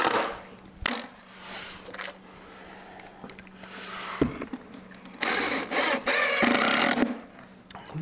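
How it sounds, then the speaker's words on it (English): Screws driven into wooden boards while building a floor frame, heard as short bursts of drill whir and wood creak with scraping and handling noises in between. "I'm just going to put a couple screws in each into the outside boards, just to hold that"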